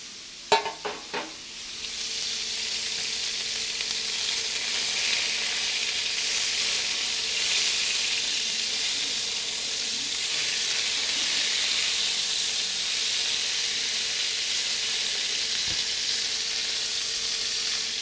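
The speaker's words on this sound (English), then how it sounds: "Look for that immediate sear on the meat." Meat sears in a hot pan in a cooking demonstration, with a few sharp clatters at the start and then a steady, close sizzling hiss that holds evenly to the end, with no talking.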